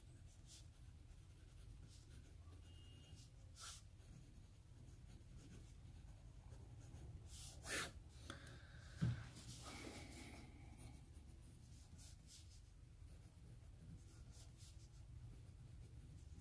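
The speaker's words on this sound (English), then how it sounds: "the pen does write a very smooth, wet line" A TWSBI Eco T fountain pen inked with Colorverse Supernova scratches quietly across Arista notebook paper, a faint continuous close-up writing sound broken by a few brief louder ticks and rustles.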